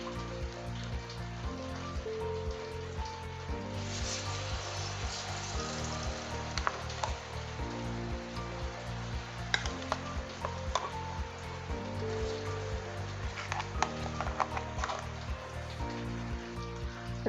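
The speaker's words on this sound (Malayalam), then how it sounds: "ഇനി ഇതിലേക്ക് അടിച്ചെടുത്ത പഴം ഇട്ട് കൊടുക്കാം." Blended banana sizzles in hot ghee for a halwa, a close, continuous frying crackle with scattered pops and stirring scrapes, with no talking.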